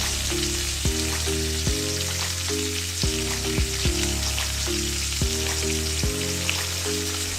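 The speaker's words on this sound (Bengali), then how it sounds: "বাটারটা গরম হয়ে গেছে, এর মধ্যে আমি একটা বড় কুচনো পেঁয়াজ দিয়ে দিচ্ছি" Chopped onion hits hot butter and oil in a pan and fries with a continuous bright hiss that sits beneath louder background music throughout.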